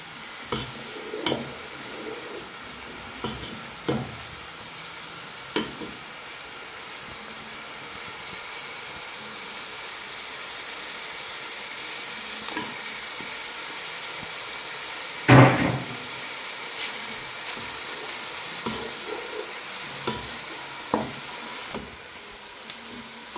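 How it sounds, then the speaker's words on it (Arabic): Onions fry in a pan with a steady, soft sizzle, punctuated by occasional scraping and clanking as a utensil stirs them, close and fairly quiet, with no talking. "هنحمر البصل"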